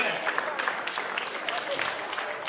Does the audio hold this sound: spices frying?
no